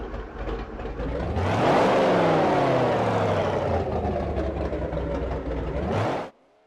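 A 7-litre Ford Boss V8 in the Forza racing game roars through its twin rear exhausts, building loudly into a high rev around two seconds, holding a strong drone with shifting pitch, then cutting off abruptly near the end.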